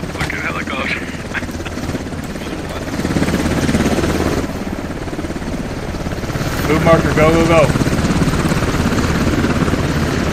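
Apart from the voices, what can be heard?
helicopter in a video game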